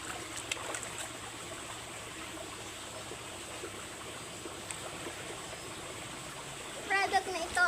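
Steady rush of flowing stream water with a constant broadband wash, faint voices in the background and louder splashy trickles near the end.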